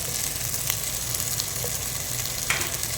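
Homemade ghee sizzles in a pan for camel biryani, a dense continuous frying hiss heard close and loud, with a few faint clicks over the steady crackle.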